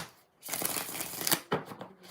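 Tarot cards shuffled by hand in a couple of quick riffling bursts, a dense papery flutter lasting about a second and a short second burst after, close and fairly quiet with no talking.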